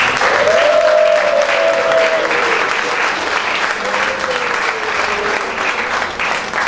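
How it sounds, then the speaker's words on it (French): Sustained applause from the guests at Papa Maurice's birthday celebration, loud and steady throughout, with a faint tone or voice briefly audible above the clapping. "Est-ce qu'on peut l'acclamer?"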